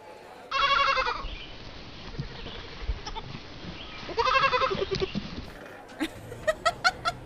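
A goat in a video game bleats loudly twice with a long wavering cry, followed by a burst of short rapid bleats; quiet background between calls.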